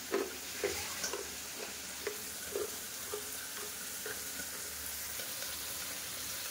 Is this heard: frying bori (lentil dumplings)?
yes